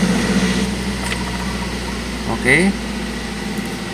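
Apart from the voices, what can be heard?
car engine starting and idling cold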